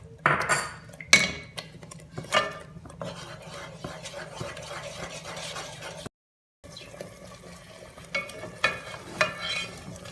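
Paneer, capsicum and onion being stirred into gravy in a kadhai, with repeated scraping and clinking of a spoon against the pan over a soft sizzle, briefly cut to silence midway.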